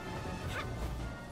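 A dog-like creature in the Palworld video game gives a short bark, a single quick yelp over dense game noise, moderately loud and brief.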